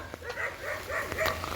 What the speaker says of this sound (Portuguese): Nossa, 3 cachorros grandes aí é complicado.